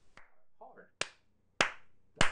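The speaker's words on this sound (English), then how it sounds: "now I just need you to clap one time" Several sharp, separate hand claps ring out nearby, each one crisp and brief with short pauses between them, while a voice murmurs softly in the background.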